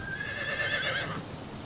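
A horse at a horse breeding farm gives a clear, shrill whinny lasting about a second, moderately close, with a quieter background afterward.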